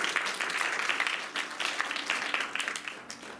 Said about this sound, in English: Please, a round of applause for your colleague.